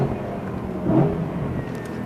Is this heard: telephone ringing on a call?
no